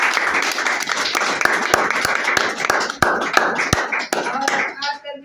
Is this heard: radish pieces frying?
no